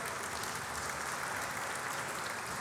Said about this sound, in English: let's give them another round of applause for Mammoth Cave